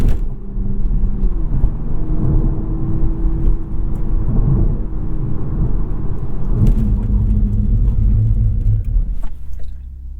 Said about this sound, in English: I'll do a 60-0 braking test here.